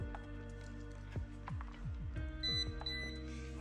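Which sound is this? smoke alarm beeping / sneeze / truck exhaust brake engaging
smoke alarm beeping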